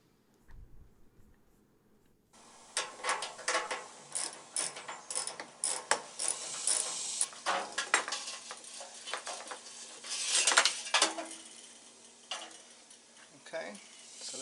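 A hand ratchet loosening two hex bolts on a home water heater, clicking in rapid, uneven bursts up close and loud, pausing briefly between strokes and continuing steadily for the full stretch.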